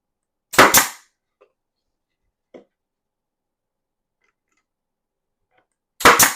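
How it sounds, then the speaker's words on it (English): A small air-compressor nail gun drives nails into a wooden picture frame during assembly: two sharp, loud pneumatic bangs about five seconds apart, each a quick double crack, with near silence and a couple of faint clicks between them. "I got my little air compressor gun right here"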